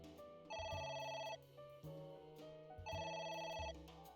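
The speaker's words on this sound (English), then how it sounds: "Let it go to the machine. It won't stop ringing." Phone ringing in the AI: The Somnium Files video game, two loud bursts of electronic bell-like tones about two seconds apart over a low music bed, with no one talking.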